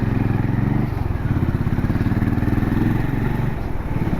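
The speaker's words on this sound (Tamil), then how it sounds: "ஹோண்டா ஹைனிஸ் வேறு லெவல், பட் பயங்கர ஹீட் ஆகுது வண்டி" Honda H'ness motorcycle with its engine running, a loud, steady, close thumping idle with a rapid even pulse that holds throughout, with no voices over it.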